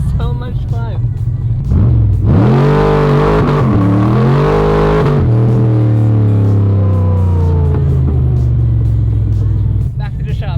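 A Mazda RX7 with a four-rotor engine accelerates hard, a loud close rising rotary howl that swells mid-clip and then settles into a lower steady drone, with a voice talking over it at moments.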